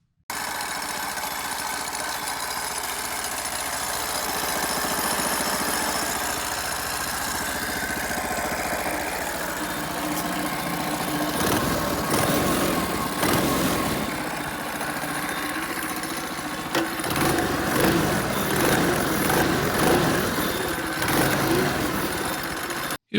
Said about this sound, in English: Most mini bike mufflers aren't designed to actually muffle the engine, and I wanted to see how quiet I could make the bike.